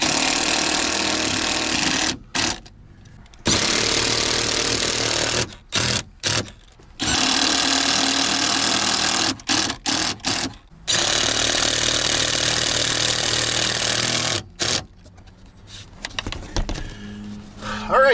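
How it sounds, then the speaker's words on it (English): Power screwdriver driving screws into a 2019 Ford F250 Super Duty truck cab while fitting underseat storage, a loud steady whir in long bursts broken by short pauses, close by. "and then just run the screws in."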